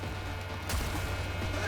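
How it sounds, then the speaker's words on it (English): Shotgun blast in the video game Cyberpunk 2077, a single sharp burst cutting through a steady, dense game soundscape with low rumbling background. "Shotgun."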